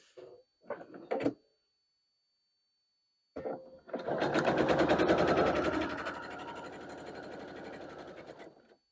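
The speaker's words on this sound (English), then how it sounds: "now we gotta sew this one" A sewing machine stitching an apron tie piece, starting after brief handling clicks and a short pause, then running in a fast steady whir for about five seconds before slowing and stopping.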